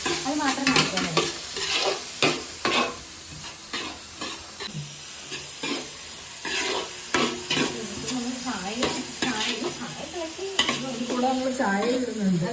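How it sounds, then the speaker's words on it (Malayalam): Carrot and beans fry in a pan, their sizzle and hiss running beneath repeated close stirring scrapes and clatters from start to finish, with no one talking. "നമുക്ക് ക്യാരറ്റ് ബീൻസ് വറുത്ത് പോകാം"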